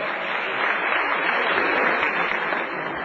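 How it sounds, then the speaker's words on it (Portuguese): Dense, steady audience applause at the Capacete de Ouro racing award ceremony, filling the whole stretch as an even wash of many clapping hands with no clear pauses. "Rafael Matos, Uma salva de palmas."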